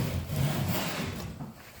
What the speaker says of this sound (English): go along with the plane and cut the bevel